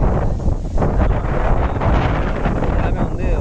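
Wind gusting steadily across an open farm plot near Chennai lined with coconut trees, a continuous loud rushing buffet against the microphone with no pauses.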